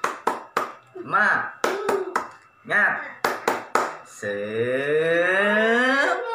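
Rhythmic group clapping in quick patterned bursts alternating with chanted voices in an Indonesian classroom, a teacher leading the children, ending in a long sustained shout from the children.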